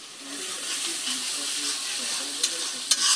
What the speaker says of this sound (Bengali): একসাথে মরিচ, পেঁয়াজ আর ইলিশের শুটকিটা দিয়ে দিলাম। একটু ভালো করে কষাইয়া